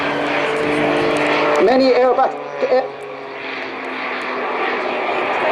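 A Jet Pitts aerobatic biplane performs at an airshow, its engine roaring loudly and steadily with a rising, sweeping whine mid-pass, while a commentator talks over it.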